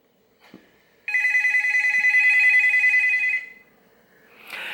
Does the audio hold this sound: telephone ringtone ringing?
yes